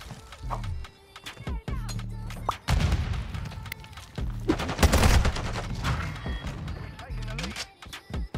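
A TAQ-V rifle fires in Modern Warfare 2 multiplayer, with quick bursts and single shots plus occasional thuds and explosions. Game voice lines and a player's narration run over the shooting.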